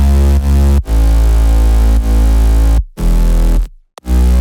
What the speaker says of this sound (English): For the mid bass, I used 4 individual layers.